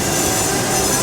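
An amusement park train at Busch Gardens Williamsburg rolls past with a dense, continuous rumble and faint wheel squeal, filling the short moment without any voices.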